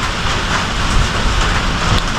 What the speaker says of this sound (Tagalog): bumuhos yung ulan eh, pero hindi naman malakas din, kulog-kulog lang